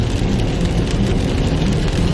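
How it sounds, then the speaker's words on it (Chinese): Heavy rain pours steadily on a car driving along a mountain road in rural Guangxi, a loud dense wash of drumming drops over low road and engine rumble, with no voices. "感觉这个雨越下越大了，我还是开慢一点吧。"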